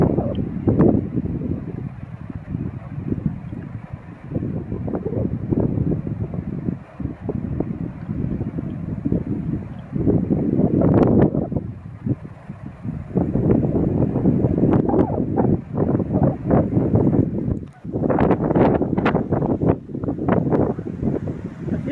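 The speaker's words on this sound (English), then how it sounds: "The wind's shifting" Shifting wind near wildfires roars and buffets steadily against the microphone in rough surges for the whole stretch, with a few sharper gusts rising above the constant rumble.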